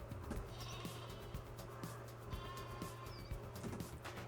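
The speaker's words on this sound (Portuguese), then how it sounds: "Agora a gente vai procurar aqui um momento em que as ovelhas estão fazendo barulho." Sheep bleating on a farm, several overlapping calls over a steady low hum and scattered knocks, heard at moderate distance with no talking.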